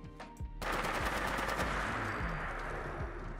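A modded FN SCAR-H battle rifle in Fallout 4 fires full auto in one rapid, sustained burst of loud, close gunshots after a short lead-in, with no talking.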